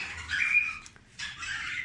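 Small caged weaver birds and canaries twitter and squeak in short, fairly faint bursts with a brief lull in the middle, no voices present.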